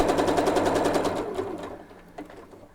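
A sewing machine with a 1/4 inch foot chain-pieces quilt half-square triangles, a fast, steady, close mechanical whir that slows and stops near the end.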